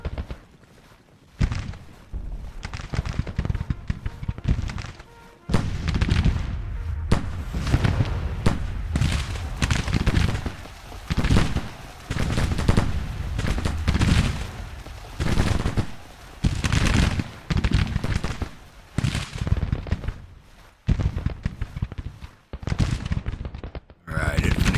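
Dense, repeated rifle volleys from Civil War infantry brigades in the Grand Tactician strategy game, loud crackling bursts rolling one after another with brief gaps, layered over a constant battlefield rumble.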